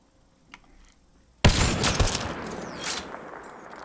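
Gunfire in the video game Mass Effect Andromeda: after a quiet moment a sudden loud shot bursts in, followed by a sustained barrage of close, dense shooting.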